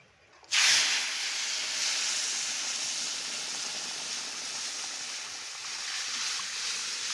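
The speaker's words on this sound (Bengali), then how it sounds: "এখন ডাল দিয়ে দেবো।" Dal hits hot oil with fried cumin seeds, bursting into a sudden loud hiss after a brief quiet moment, then settling into a steady, close sizzle that slowly eases and swells.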